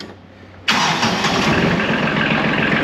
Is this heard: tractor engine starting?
yes